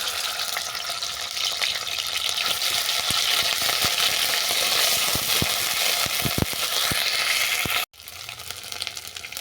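Dried red chillies crackle in hot mustard oil for a crab tel jhal tempering, a loud, dense sizzle broken by sharp stirring clicks that cuts out briefly near the end before resuming.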